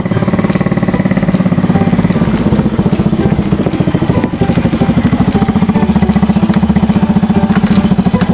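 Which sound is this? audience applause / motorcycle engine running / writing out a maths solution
motorcycle engine running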